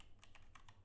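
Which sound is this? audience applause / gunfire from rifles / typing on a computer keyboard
typing on a computer keyboard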